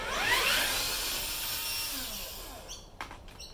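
A power tool whirs while backing out the motor bolts of a Samsung washing machine, a rising then fading whine followed by a few short clicks and knocks, heard up close at moderate volume.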